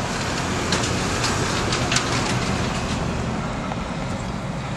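A Jeep crawls slowly up a steep 35-degree traction hill at Camp Jeep in New York, its engine giving a steady, dense rumble with faint rattles and clicks above it, continuous and fairly loud for the whole stretch.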